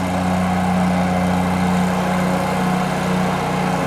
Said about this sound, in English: So now it's mowing by itself.